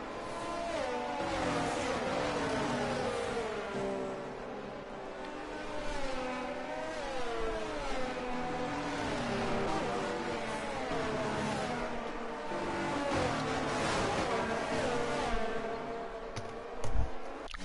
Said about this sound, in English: The cars just making their way to the end of the formation lap.